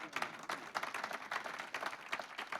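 Audience applause breaking out at a live French chanson performance, a dense patter of many hands clapping at moderate distance, steady throughout with slight swells.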